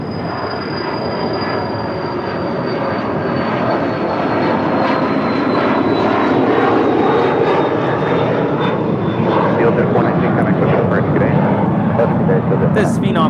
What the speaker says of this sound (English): This Phenom 300 is departing to Billings